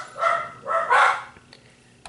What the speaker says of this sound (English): hear my doggy barking